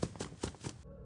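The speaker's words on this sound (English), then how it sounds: "Him moving to the right hall sounds like this." Foxy shifting to the right hall in the video game Five Nights at Freddy's 4 comes through as four quick, close, muffled thuds in an even rhythm, like heavy footsteps, ending abruptly.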